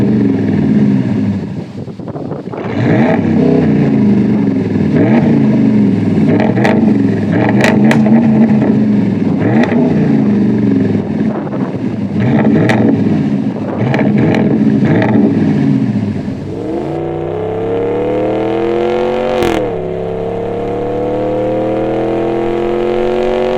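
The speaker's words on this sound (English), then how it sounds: "Let's give it a few revs." A 5.7 HEMI V8 RAM truck with a Thermal R&D Savage cat-back exhaust revs up repeatedly in several bursts, rising and falling in pitch, then settles back toward a throaty idle; close and unaccompanied by speech.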